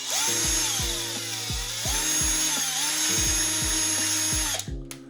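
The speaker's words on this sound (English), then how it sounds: "just run your 1/4-inch drill bit again and just kind of push along the edges as you're drilling" Power drill with a 1/4-inch bit widening a push button hole: a continuous high whine with repeated dips and pulses in pitch as the bit is pushed along the hole edges, close and loud, then stopping.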